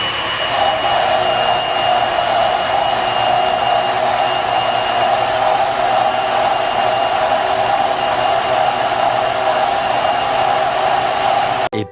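A steady, loud, hissing high-speed cutting whine runs unbroken for about twelve seconds as the rear axle tube of a Ford Explorer 8.8 is cut, with no one talking.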